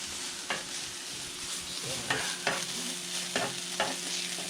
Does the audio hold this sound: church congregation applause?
no